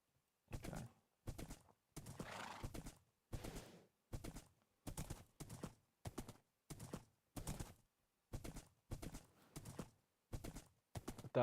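A horse wearing diamond armor in Minecraft clops along, with about a dozen evenly spaced hoof steps and a brief snort, sharp and close against silence.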